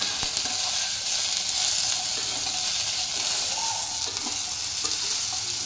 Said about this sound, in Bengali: তো এটাকেও হালকা আমি ফ্রাই করে নিচ্ছি।